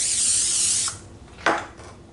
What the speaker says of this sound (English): just take some nonstick cooking spray and just spray my counter with it